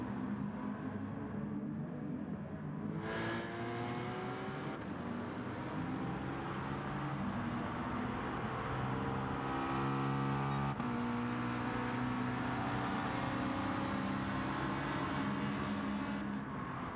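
Race cars in Gran Turismo Sport, a Ferrari among them, drone and whine through corners and a hairpin, with steady engine tones rising and shifting pitch, loud and continuous for the whole stretch with no talk.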